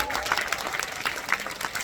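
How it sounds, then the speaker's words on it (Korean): Audience applause at a Korean film screening and Q&A event for the movie The Moon, a steady wash of clapping from a crowd filling the whole moment, moderately loud and continuous. "박수 한번 부탁드릴게요."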